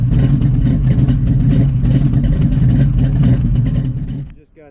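A 1968 Chevrolet Camaro muscle car engine runs loud and close with a deep, lumpy rumble and a few revs, then cuts off abruptly near the end.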